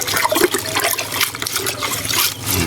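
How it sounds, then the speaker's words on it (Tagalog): Vegetables being washed and soaked in a basin of water, with continuous splashing, sloshing and trickling close by, steady and fairly loud throughout, no talk. "Hugasan muna natin. Tabad muna natin sa tubig mga kadayo."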